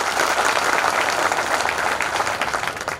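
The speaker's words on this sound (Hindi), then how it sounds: "आप ताली बजाकर उनका धन्यवाद है" An audience at a Lavkush Jayanti community event breaks into dense, sustained applause, many hands clapping loudly and evenly throughout with no break.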